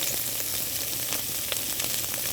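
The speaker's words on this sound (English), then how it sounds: "Give that a nice saute, and we're gonna go ahead and add our garlic in" Onions and garlic sauté in a pan, giving a continuous dense sizzle close up with small crackles scattered through it and no voices.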